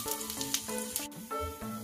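Asafoetida goes into hot oil with chana dal, fenugreek, cumin and pepper as a tempering for tamarind rice, giving a steady close crackling sizzle with a few brief pops and clinks.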